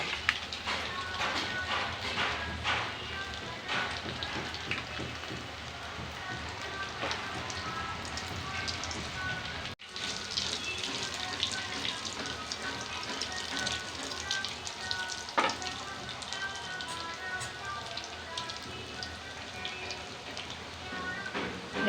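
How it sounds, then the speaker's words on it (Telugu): Meal maker (soya chunk) and potato koftas deep fry in oil over a medium flame, giving a steady, dense crackle and sputter throughout with no voices. "మీడియం ఫ్లేమ్లో పెట్టుకొని వేయించుకోవాలి."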